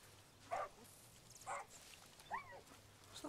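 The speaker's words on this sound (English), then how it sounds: "Oh, dog." Dog in the video game Far Cry New Dawn giving three or four sharp barks spaced about a second apart, fairly faint and distant over a low game-world hum.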